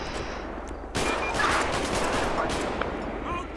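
Gunfire erupts in a GTA V LSPDFR police game shootout, a sudden loud volley of rapid shots that continues in dense bursts over background noise.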